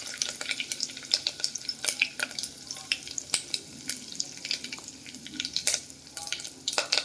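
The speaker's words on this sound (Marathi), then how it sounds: "तेल गरम छान झाले, मोहरी टाका फोडणीला, जिरे टाका" Spices crackle in hot oil for a kadhi tempering of mustard, cumin, cloves, pepper, curry leaves and asafoetida, with frequent sharp pops and spits over a faint sizzle, close up and without speech.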